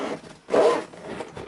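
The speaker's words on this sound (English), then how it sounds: "Nice smooth zipper." A smooth zipper pulls open along a headphone case for Mixcder E9 noise-cancelling over-ear headphones, one close continuous rasping stroke after a brief quiet moment.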